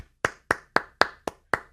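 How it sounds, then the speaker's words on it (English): Six crisp, evenly spaced hand claps ring out alone in a slow, measured rhythm, close and clear with silence between each one. "They clap. They all clap."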